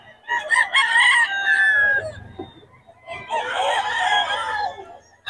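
A rooster crows twice in a live-poultry market in Bocaue, each loud drawn-out call close to the microphone, with faint background murmur between.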